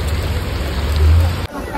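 Rain falls steadily outdoors near a temple, a close, constant wash of drops with a low rumble that swells briefly, then cuts off abruptly near the end.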